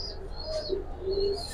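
A pigeon coos softly nearby, giving a few low, brief notes among faint chirps from other birds at a pigeon market.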